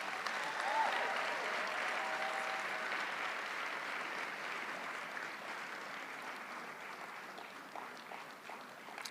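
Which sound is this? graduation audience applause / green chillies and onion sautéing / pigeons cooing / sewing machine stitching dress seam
graduation audience applause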